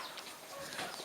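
Chickens clucking softly in the backyard of an Iban longhouse in Malaysia, a faint, steady murmur of fowl with no talking.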